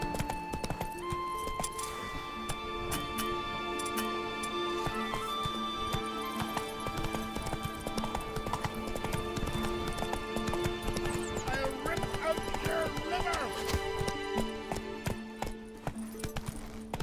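Hoofbeats of Roach, the horse in The Witcher 3, clip-clop steadily at a gallop and keep going with an occasional whinny, set against dense in-game music and ambience with a voice now and then.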